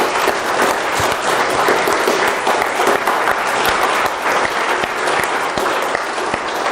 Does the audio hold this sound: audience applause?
yes